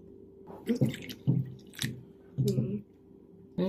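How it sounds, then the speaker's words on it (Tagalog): An egg goes into homemade donut batter in a kitchen, giving a few soft, wet plops and squishy splashes in short bursts close by, with faint voices in the background. "Tapos maglagay ako ng egg."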